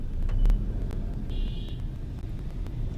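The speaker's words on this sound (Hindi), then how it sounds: "देखिए किस कदर ट्रैफिक व्याप्त है।" Road traffic in Raipur, India, during a lockdown: a steady low rumble of passing cars and vehicles close by, with a brief high whine from a passing engine partway through.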